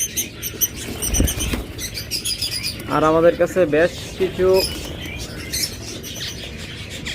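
Pet prince birds in cages give off scattered chirps and a brief flutter of wings, heard under someone talking close by throughout.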